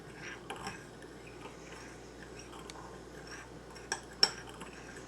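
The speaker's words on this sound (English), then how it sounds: "I have sesame oil, which gives it a really unique flavor. I'm going to go ahead and mix this together." Lo mein sauce with sesame oil being mixed in a bowl, soft faint clinks and taps of a utensil against the bowl with a couple of sharper knocks near the end, quiet and close.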